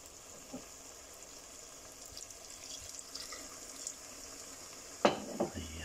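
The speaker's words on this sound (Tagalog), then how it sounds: "Halo lang po ng halo dahil para hindi dumikit yung kalabasa." Pumpkin frying and being stirred in a pan with a splash of white wine, a low steady sizzle with soft scraping stirs, ending in a sharper burst of clatter near the end.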